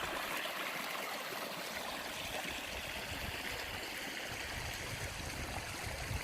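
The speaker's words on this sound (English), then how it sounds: "The river's still flowing." A small stretch of the Whitewater River flows in a canyon, a steady soft babbling and trickling of water heard alone at moderate distance.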